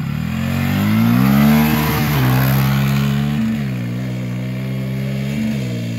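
A drag race car launches hard and revs up through power shifts, a loud, close engine climbing in pitch with brief drops at each gear change, no talk over it.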